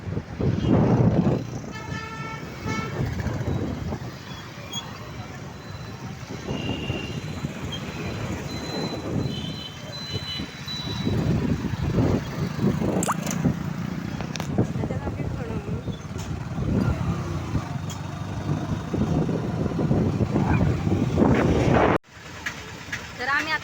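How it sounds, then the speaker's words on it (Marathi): Heavy traffic jam on a crowded road at a village fair, ridden through on a two-wheeler, with car and vehicle horns honking repeatedly over dense engine rumble and the voices of nearby people talking. "ट्राफिक तर एवढं जाम आहे ना पुढं जायलाच जागा नाही एवढं ट्रॅफिक आहे"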